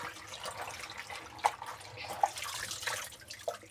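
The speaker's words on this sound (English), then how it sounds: "So I want to wash my spinach and put it here so that all the water can come out of it." Spinach being washed under running water in a home kitchen, soft continuous water flow with a few brief splashes and drips, faint and close.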